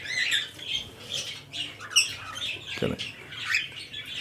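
Pet birds in a home breeding setup, including cockatiels, give repeated close squawks and chirps in bursts, with a brief voice speaking in the middle.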